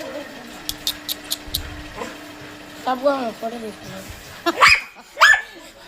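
A dog barks and yips excitedly at a newly arrived puppy, with several sharp barks and whimpers scattered among people talking nearby.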